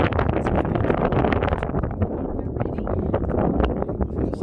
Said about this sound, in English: God, it's windy up here.